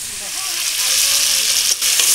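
Chicken curry frying in oil, a steady loud sizzle and crackle throughout with stirring, close up and without speech.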